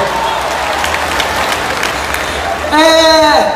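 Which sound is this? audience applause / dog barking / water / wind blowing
audience applause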